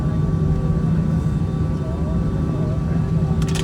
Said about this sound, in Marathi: हे एअर इंडियाचा विमान